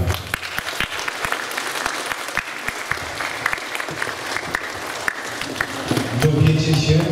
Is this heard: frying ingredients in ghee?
no